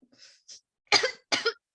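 Two sharp, loud coughs close together, preceded by a few faint breathy sounds; no talking.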